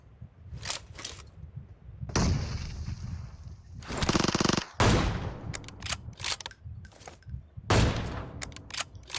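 Gunfire from a battle royale shooter game: repeated bursts of automatic fire and loud single shots, with sharp blasts around the middle, spread across the clip with short gaps between them.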